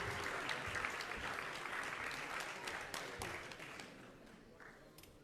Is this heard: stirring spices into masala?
no